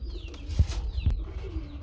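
Pigeons coo softly nearby, low throaty calls repeating with a couple of brief rustles, no talking.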